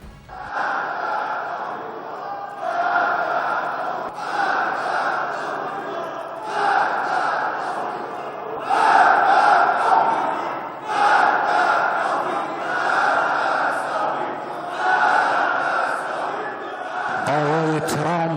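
A crowd in the Iranian parliament chants a slogan in unison, loud rhythmic phrases repeating over and over in a large hall, the voices rising and falling in regular bursts.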